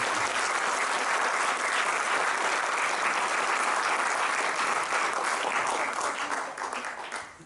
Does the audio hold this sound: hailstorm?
no